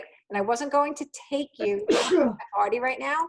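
A single sharp sneeze bursts out in the middle of an online consultant training session, briefly breaking into ongoing speech from people talking.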